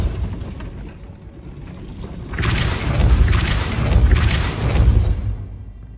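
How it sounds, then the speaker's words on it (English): A gate mechanism in Hogwarts Legacy raised by a Depulso spell gives three loud rhythmic grinding, clanking surges, each with a heavy low thump, rising after a quieter rumbling start and then fading. "That looks as if it might raise the gate."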